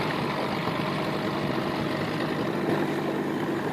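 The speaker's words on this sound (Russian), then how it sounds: "Идем на моторе." A Nissan Marine outboard motor drives a boat during break-in, a steady loud broadband engine drone holding evenly throughout with no talk.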